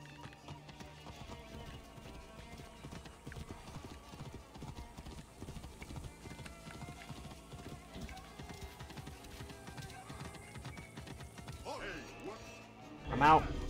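Steady clip-clopping hooves from a horse in Assassin's Creed run continuously under a busy game mix on a light rainy day, with a voice speaking over the hoofbeats and a louder burst close to the end.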